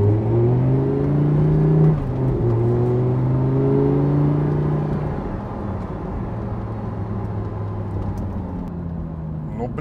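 A Ferrari sports car engine holds a strong, even drone, then the pitch drops and it settles into a lower, quieter hum.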